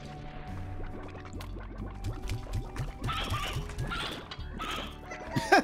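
Chickens produced in the Slime Rancher video game cluck and squawk amid busy game sounds, with bubbling slime-like blips and a steady low hum through the stretch.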